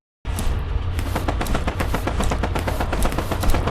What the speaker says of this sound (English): First, we heard gunshots ringing out from a far distance.